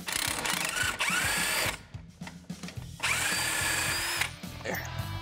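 An impact wrench rattles in two loud, close bursts as it removes the strut bolts on a Mazda Miata being built into a spec class race car, with a short pause and clanking between bursts.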